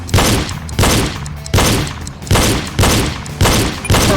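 Seven evenly spaced pistol shots ring out during a reload drill, each a sharp, loud crack with a short decaying tail, fired in a steady rhythm about every half second with no talk between them.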